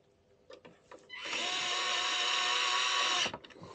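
A power screwdriver drives a screw into the brine piston of a Culligan water softener during seal pack service: one steady whirring run of about two seconds, close and fairly loud, preceded by a few light handling clicks.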